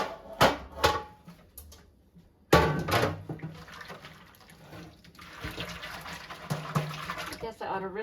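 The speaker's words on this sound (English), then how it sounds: "rinse these now that I've got them all soapy." Water runs and splashes while soapy orchid pots or supplies are rinsed, in intermittent gushes, with a person talking over it.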